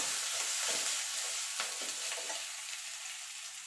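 Black mustard seeds and chopped ginger are stirred in a hot pan, giving a steady sizzle and fry with a few soft scraping stirs, close and alone.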